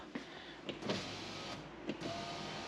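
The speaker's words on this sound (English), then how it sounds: "and there we have a working window" An electric window motor in a Land Rover Discovery HSE, fitted with a new regulator, whirs steadily as the glass moves, broken by a few soft clunks, close and alone.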